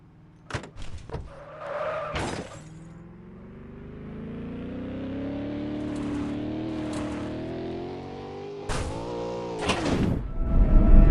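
A car in an open-city driving game accelerates with a rising engine drone through gear changes, punctuated by sharp impact thuds at the start and end.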